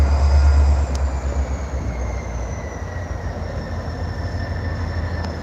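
During a switching job at Central Station, a train pulls out across the tracks onto the main line. A close, steady low rumble carries faint high squealing tones and no talk.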